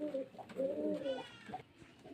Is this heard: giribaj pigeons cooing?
yes